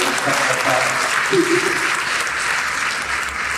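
Steady applause from a crowd, a dense even patter of clapping that holds at the same level throughout.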